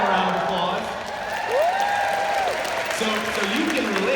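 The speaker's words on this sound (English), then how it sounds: "Let's give them a round of applause." Convention keynote audience applauds and cheers in a large hall, with sustained clapping and a few whoops while a voice carries over the crowd.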